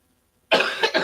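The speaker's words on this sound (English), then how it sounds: "bad time to get a coughing fit" A sudden burst of coughing after silence, one harsh cough followed by two quicker ones, close and loud.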